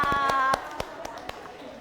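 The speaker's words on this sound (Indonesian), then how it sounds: "Oke, berarti semuanya fokus tepuk tangan untuk kita semua." A classroom of pupils claps hands together, a few sharp scattered claps standing out after a teacher's voice speaks briefly at the start.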